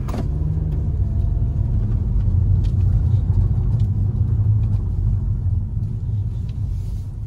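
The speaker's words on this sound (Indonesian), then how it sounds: "Road noise juga masih terasa yang sangat khas Honda." Cabin road noise in a 2022 Honda HR-V 1.5 Turbo RS on the move, a constant deep tire and road rumble with a faint engine hum, steady and enveloping with no talk.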